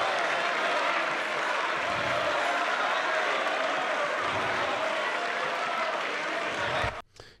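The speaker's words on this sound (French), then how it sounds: "Là, il est en train d'être applaudi par le Rassemblement National." Sustained applause for a speaker in the French parliament, from the Rassemblement National benches: a dense, even wash of clapping that carries on for several seconds before cutting off abruptly.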